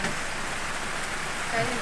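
Steady rain during Diwali hisses and patters on surfaces, a dense continuous wash of sound with faint voices in the background.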